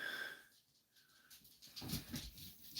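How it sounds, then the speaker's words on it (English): Dog panting and whimpering on a garage livestream, with soft breathy whines and snuffles rising into a few louder yelps near the end, close to the microphone. "Now the dog's here."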